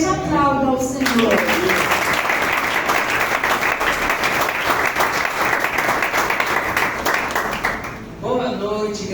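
A church congregation breaks into loud, sustained applause for several seconds, a dense close wash of clapping, with a voice speaking at the start and again as it fades.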